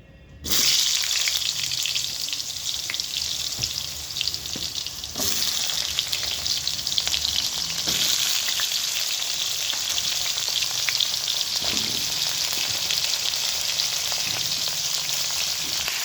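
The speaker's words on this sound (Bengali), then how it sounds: "এবার এই তেলেতে আমি দিয়ে দেবো পটলগুলো" Pointed gourd (potol) slices hit hot oil with a sudden loud sizzle that settles into a steady, close frying hiss, with occasional stirring scrapes and crackles.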